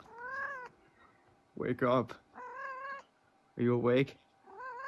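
A cat meows several times in drawn-out, rising and falling calls, close and fairly loud, with longer wailing cries in between and a person talking softly to it.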